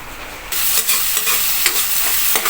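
Tomato, onion and flaked fried fish sauté in a hot pan, a loud sizzle bursting in and holding steady while a spoon stirs with repeated scraping knocks.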